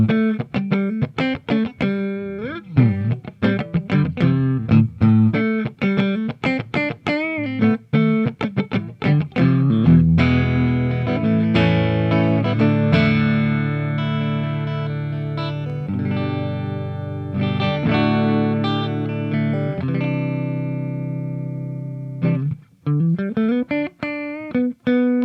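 Fender Brent Mason Signature Telecaster electric guitar on the middle pickup position, played clean with a bright, twangy tone, picked notes and strummed chords ringing out in a steady phrase, with no talking.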